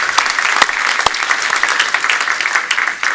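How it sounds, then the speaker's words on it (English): Loud, dense applause from a symposium audience honoring the vice president, steady clapping throughout with a few sharper claps standing out near the front. "Another applause for you."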